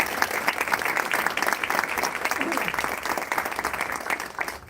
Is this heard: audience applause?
yes